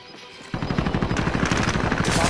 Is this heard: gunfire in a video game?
yes